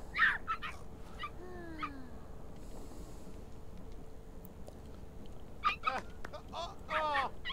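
Small dogs in The Sims 3 life-simulation game whimpering and yipping in short, high, bending cries, a burst near the start and another cluster toward the end, with faint game ambience in between.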